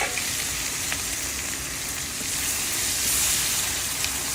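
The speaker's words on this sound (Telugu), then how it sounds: "నెక్స్ట్ అల్లం వెల్లుల్లి paste, along with that onions కూడా వేసేస్తున్నాం." Steady, close sizzle of ginger garlic paste and onions frying together in a pan for gobi fry, a continuous crackling hiss with no voices.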